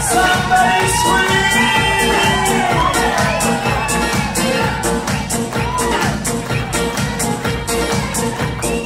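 A wedding reception crowd cheers, whoops and screams loudly and without a break, with the roar carrying over music throughout.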